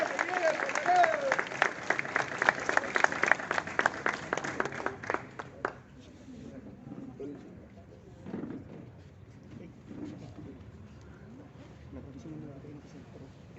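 Crowd clapping at a political rally in Lima Norte, Peru, loud and dense for about five seconds before breaking off, followed by murmuring voices and scattered talk.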